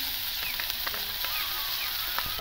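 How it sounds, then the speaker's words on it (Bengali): Panch phoron spices and dried chillies sizzling steadily in hot oil, with a constant hiss and scattered small pops and crackles, close by. "সেই পাঁচফোড়ন তেলের উপরে দিয়ে দেবো"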